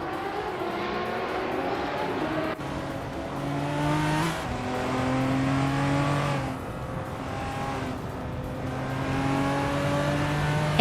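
A 1989 Ford Sierra RS 500 race car in a racing game, its engine revving hard and shifting through gears in repeated rising whines, loud and continuous with brief drops between shifts and no speech.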